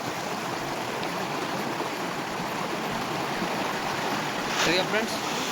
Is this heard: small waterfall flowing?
yes